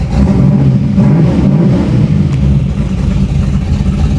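A 500hp 1987 Chevy Monte Carlo SS idles with a loud, choppy, loping rumble, heard close through an open window, steady and uneven throughout with no talking.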